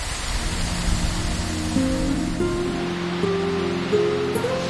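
Steady rushing water fills the scene along a scenic mountain stream of pools and waterfalls in the Taihang Mountains near Baoquan, China, a continuous broadband wash with faint tonal hints in the background.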